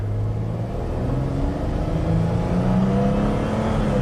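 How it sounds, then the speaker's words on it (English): A GM V6 car with timing chain trouble accelerates hard from a standstill toward 60 mph, its engine a loud continuous rumble with slowly rising pitch heard from inside the car and no talk. "So I'm flooring it right now"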